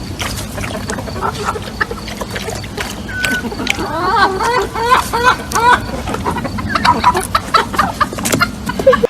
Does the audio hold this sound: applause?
no